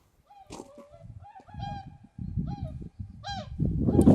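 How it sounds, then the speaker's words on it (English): Swans calling in early spring on Hiiumaa, a series of honking, nasal calls repeating at intervals over a rising background rumble, moderately close and unaccompanied by talk. "Swans."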